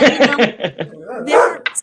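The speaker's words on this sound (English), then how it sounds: "The dogs are going crazy over a squirrel." Dogs bark and yip excitedly at a squirrel, several sharp, loud, close barks in quick succession with a short whimpering yelp near the end.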